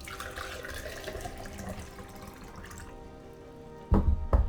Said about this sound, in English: Fill my water.